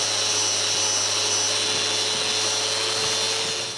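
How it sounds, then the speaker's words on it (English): Power sanding of a wooden step to a smooth finish, a steady, loud whirring hum that stays constant throughout with no pauses. "I sand this really smooth."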